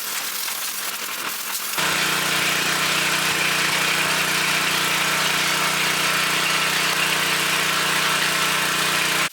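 A 1973 John Deere 110 lawn tractor engine catches after a short rough start and settles into a steady, loud, droning idle close by that keeps running to the end.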